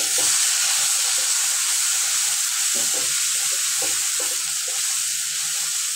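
Paste of onion, garlic, ginger and green chili sautéing with minced chicken for chicken kosha with chui jhal: a steady, loud close sizzle throughout, with soft clicks and scrapes of stirring, no voices.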